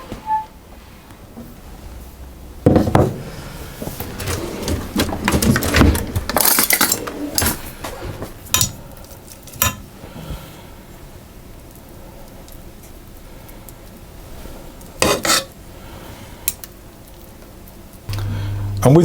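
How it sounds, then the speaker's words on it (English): Rice pudding spooned into pastry cases: a spoon clinks and scrapes against a bowl and tart tins in scattered bursts, with a louder cluster of clattering midway and soft tapping later. "I'm going to spoon that into the pastry cases"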